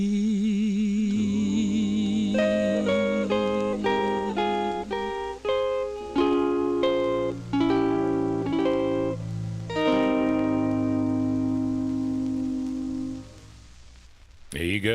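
A 1956 vinyl record plays with singing voices over melodic backing that shifts through distinct notes. It ends on a long held chord that fades out.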